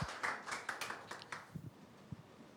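Scattered light clapping from a small group, faint and thinning out into a few last claps.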